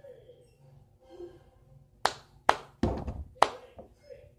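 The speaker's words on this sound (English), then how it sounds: "You clap your hands once" A handful of sharp hand claps and cup taps, sounding close and crisp, spaced unevenly over about two seconds after a quiet stretch.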